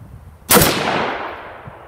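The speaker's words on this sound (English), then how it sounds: "going to try a 5-shot group with this 77 grain ammo" A single loud rifle shot fires 77 grain ammunition from an infantry automatic weapon style upper at a 50-yard range, a sharp crack followed by a long fading echo.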